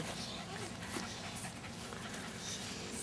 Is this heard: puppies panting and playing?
yes